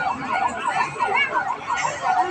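An ambulance siren wails in a steady, repeating up-and-down cycle as the vehicle pulls away at a rainy Republic Day parade, loud and continuous with faint crowd chatter beneath.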